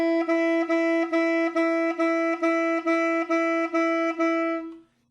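Saxophone notes played on just the crook and mouthpiece with tongued articulation, a steady run of about eleven identical buzzy tones evenly separated by brief tongue stops, close and alone, fading out at the end.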